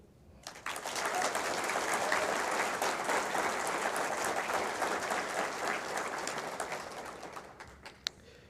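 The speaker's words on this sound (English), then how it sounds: "Please join me in giving Baird Public Finance a heartfelt round of applause for all that they do." An audience gives a round of applause at a WTCS Ambassadors event, steady dense clapping that swells quickly and holds before fading out, with a sharp knock near the end.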